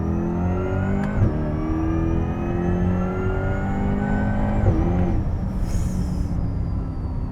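A supercharged Corvette C8 E-Ray accelerating hard, its engine note climbing in pitch through rising gears with brief shift breaks, loud and close from inside the car with no talking.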